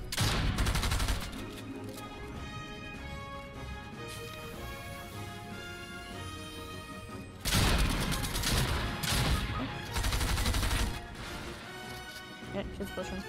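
Rapid gunfire from a hero shooter video game rattles in dense bursts, loud and close, with short pauses and crashing impacts between volleys.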